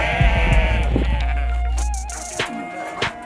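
Sheep caught by a Kazakh herder bleats loudly and close, one long wavering cry over low rumbling background noise, followed by fainter shuffling and clicks.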